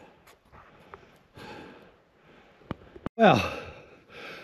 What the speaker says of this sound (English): I'm really breathing hard now, but I got to the top.